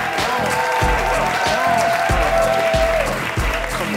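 A studio audience at a German TV show claps loudly and steadily throughout, while music with rhythmic bass hits plays underneath.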